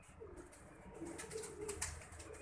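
Pigeons, including a red mesh-patterned pigeon, coo softly in the background, low burbling calls over faint ambient noise, with a brief chirp near the end.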